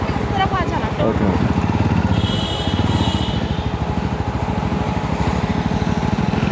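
Yezdi Roadster 334cc motorcycle engine during a test ride, a steady close thumping idle and low rumble throughout, with someone talking over it.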